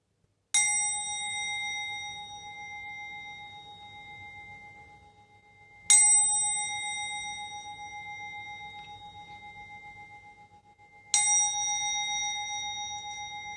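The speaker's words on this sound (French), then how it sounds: "Je vais commencer avec mon petit gong pour purifier l'atmosphère." A small gong is struck three times at slow, even intervals, each hit ringing out clear and close and decaying slowly in a quiet room.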